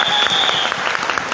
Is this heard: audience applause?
yes